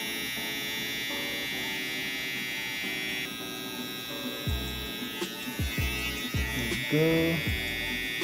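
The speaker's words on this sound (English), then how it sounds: "now we're gonna use the trimmer" An electric hair trimmer buzzes steadily at close range while cutting hair, a continuous whine that wavers as it moves, with brief clicks and a short spoken word near the end.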